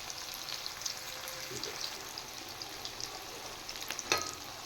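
Onions fry in a pan with a soft, continuous sizzle and crackle, fairly quiet and close, with a brief clatter near the end and no speech.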